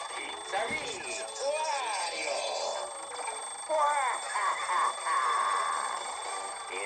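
Insistent electronic ringing from a Nintendo DS WarioWare alarm clock game comes in repeated warbling bursts, loud and near, with a short thump early on and no talk.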